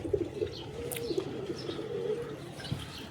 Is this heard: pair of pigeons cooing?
yes